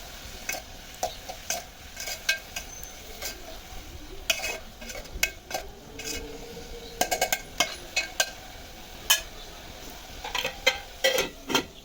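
Curry with garam masala cooking over a low flame, a continuous gentle sizzle broken by repeated scraping stirs of a spoon against the pot, close and clear with no talking.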